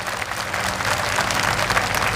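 Welcoming applause from a large crowd at a Buddhist convention in Gorakhpur, a steady, dense clapping that holds evenly throughout at moderate loudness.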